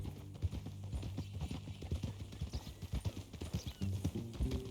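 Horse hooves clip-clopping at a walk in the video game Red Dead Redemption 2, a close, regular rhythm of hoofbeats with a faint whinny, continuing steadily throughout.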